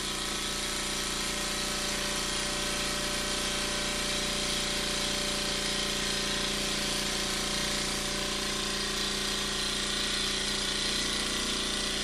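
A Wilesco D52 model steam engine with slip eccentric reversing runs steadily, giving a continuous, even mechanical whir and hiss at close range throughout, without speech.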